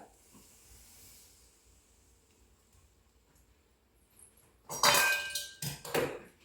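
Hot oil poured into flour dough for bellam gavvalu, a sweet Telugu snack, sets off a sudden loud hissing froth that crackles briefly, dies down, and flares again after near-quiet.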